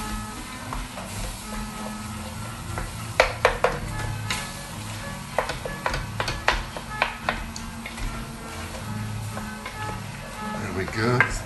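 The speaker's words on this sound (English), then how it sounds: "it's not frying anymore, but it's what we call stewing, half liquid, half oil" Ragu sauce stewing in oil in a pan, a steady low bubbling sizzle with scattered clicks and scrapes of stirring, as someone speaks over it.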